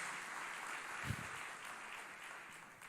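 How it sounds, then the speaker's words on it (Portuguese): A church congregation applauds during a sermon, a continuous moderate clapping wash heard at some distance, with one brief low thump near the middle. "Quem crê nesta palavra, aplauda o nome do Senhor Jesus."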